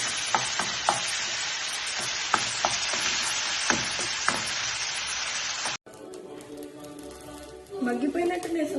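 Chopped tomatoes hitting hot oil in a pan give a loud, steady sizzle broken by occasional stirring clacks, then the sound cuts to a quieter stretch where a voice can be heard.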